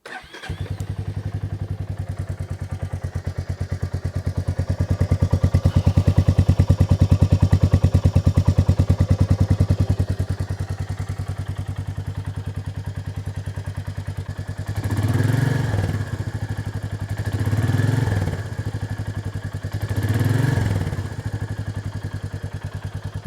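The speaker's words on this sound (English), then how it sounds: "here's a brief example of what the motor sounds like on startup, tick over, and with a few revs" A Royal Enfield Meteor 350 motorcycle engine starts, settles into a steady thumping idle, then revs up three times in quick succession before dropping back to idle.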